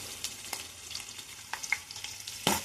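Onions fry in a pan with more ingredients tipped in, a bright continuous sizzle broken by scraping stirs and a louder crackling burst near the end, close and with no talking.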